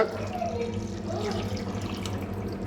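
Water runs steadily in a continuous stream with a low hum underneath, poured into a pot of country chicken curry.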